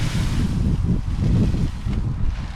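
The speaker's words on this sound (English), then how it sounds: "Very windy out." Strong wind buffets the microphone in rough, rumbling gusts, with a wash of water noise beneath, loud and steady throughout.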